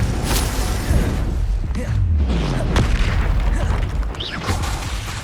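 A Confringo fire spell explodes in Hogwarts Legacy with a loud booming burst amid swooshing spell effects, followed by further blasts and whooshes in ongoing combat.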